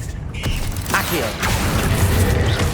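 Accio summoning spell in Hogwarts Legacy pulling an object across a loft: a whooshing magical swell followed by creaking, mechanical clatter of the item moving, loud and continuous over game ambience.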